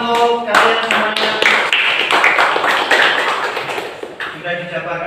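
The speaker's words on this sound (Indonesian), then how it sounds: "tepuk tangan untuk kalian semuanya." A classroom of students clapping together, with sharp claps forming a loose rhythm that is loud up close, alongside talking voices.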